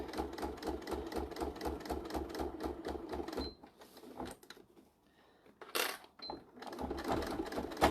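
Close by, a sewing machine stitches a bag in quick rhythmic bursts of mechanical clatter, then pauses for a few seconds with faint handling noises before the stitching starts up again.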